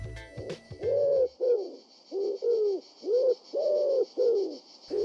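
Urban pigeons coo nearby, a run of soft, low, rounded notes in short repeated phrases with brief pauses, heard alone against a quiet city background with a faint high hum.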